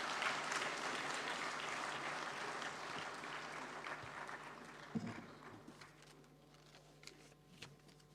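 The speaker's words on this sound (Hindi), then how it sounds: "जोरदार तालियां." Loud applause from the audience at a national conference of rural cooperative banks, addressed by Amit Shah, with dense clapping at first that thins and fades into scattered claps.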